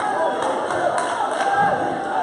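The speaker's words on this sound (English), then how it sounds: "And now the crowd is fired up." A basketball arena crowd roars in a steady, fired-up swell of cheering during a game, while a commentator's voice carries over the noise.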